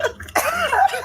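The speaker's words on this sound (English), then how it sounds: "I'm coughing." A single short cough, close and sharp, with a slight voiced tail afterward.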